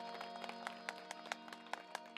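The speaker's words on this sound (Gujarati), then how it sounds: "એમને આખા પરિવારને એકવાર જોરદાર તાળીથી વધાવો" An audience at a bhajan program claps for the host family, a faint, sparse patter of hand claps over a steady background hum, with no one talking.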